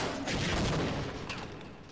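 Rocket launcher fire and explosions in the Half-Life video game: a dense, continuous barrage of booming blasts and crackling gunfire, loud and close throughout, with no clear gaps.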